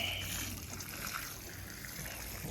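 Water pours from a 2-gallon watering can, a faint, steady trickle and splash lasting a couple of seconds.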